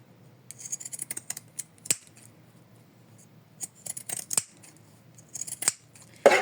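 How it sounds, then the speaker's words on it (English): Scissors snip through fabric in quick bursts of short crisp cuts with pauses between, close by with no talking. "I trimmed it, and of course you can trim it with ordinary scissors."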